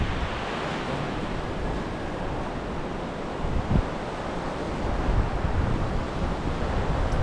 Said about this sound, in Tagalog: Ang lamig na nasimoy ng hangin.